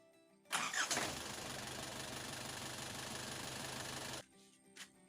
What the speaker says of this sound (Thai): เดี๋ยวลองสตาร์ทเครื่องดูนะครับ